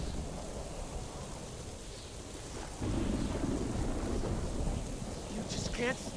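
Rain falls steadily in a Minecraft Story Mode thunderstorm, with a low rumble of thunder rolling in partway through and continuing beneath the downpour, fairly close and even in level.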